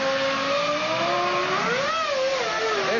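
Formula 1 car in the F1 2000 racing game pulling out of a pit stop, its engine whining steadily and rising in pitch as it accelerates, continuous and fairly loud with no talking.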